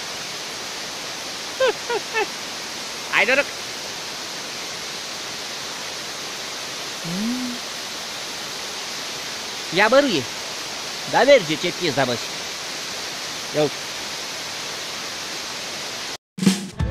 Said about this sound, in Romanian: Uite frumoasă cascadă.